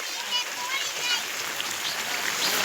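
Monsoon rain pours down in the Matiyana countryside with a dense, even patter and hiss on surfaces, and people talk over it.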